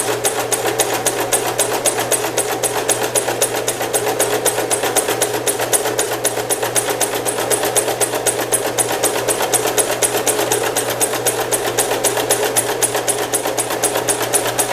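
A sewing machine runs steadily while backstitching and sewing an invisible zipper, a close, continuous rapid needle chatter with a low motor hum, unbroken throughout and without talk.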